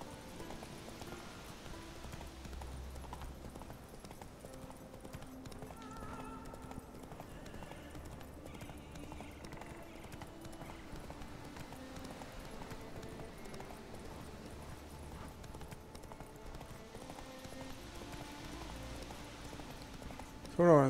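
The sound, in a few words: horse Roach galloping in The Witcher 3 video game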